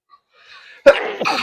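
A single sharp, close sneeze bursts out after a brief, quiet intake of breath, trailing into a short breathy exhale.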